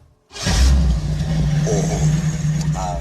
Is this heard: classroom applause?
no